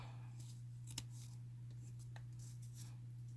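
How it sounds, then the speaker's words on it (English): Scissors snip at an angle through the corner of scratch-stand material on a dollhouse cat scratcher, a few quiet crisp cuts close by over a steady low hum. "now go back and cut that corner on an angle"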